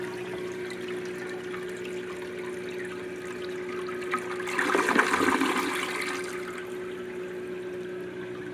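A pink 1950 Standard one-piece toilet flushes in a bathroom, a steady water hiss swelling into a louder rushing surge mid-clip before settling back to a continuous trickle as the bowl refills from the sides.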